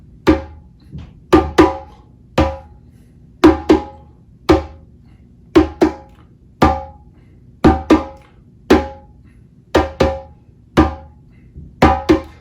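A hand drum plays a syncopated groove of open tones only, no bass tones, avoiding the downbeat: sharp ringing slaps in a repeating offbeat pattern, close and clear with silence between strokes.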